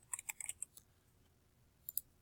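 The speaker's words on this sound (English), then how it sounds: "So I'm just typing it in really quickly." Quick computer keyboard typing: a faint, rapid cluster of sharp key clicks, a pause, then two more clicks, close and alone with no talk.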